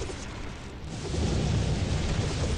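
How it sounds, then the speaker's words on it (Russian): Lightning strikes in the tower-defense video game Tower Conquest come as a dense rumbling, thunder-like roar that swells louder midway and holds steady to the end, with no voices. "Ой, как молнии бомбят,"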